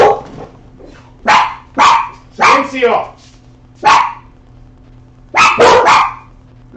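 Several house dogs bark loudly and repeatedly at someone at the front door, sharp separate barks in uneven bursts with a brief growl, close to the listener, and a person speaks a word between them.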